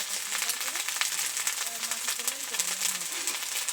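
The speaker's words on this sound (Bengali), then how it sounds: "মশলাটা নেড়ে চেড়ে একটু কষে নিয়েছি" Spices with crushed garlic and ginger paste fry and get stirred in a pan, giving a continuous bright sizzle under a voice speaking throughout.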